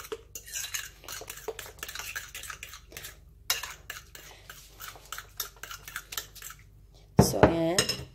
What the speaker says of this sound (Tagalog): i-mix natin yung egg